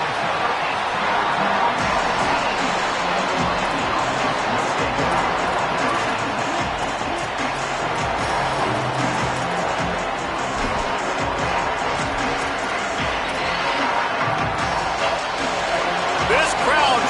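A home college football stadium crowd at Clemson roars steadily at the opening kickoff against Miami, a dense, continuous wall of noise running under a commentator's voice throughout.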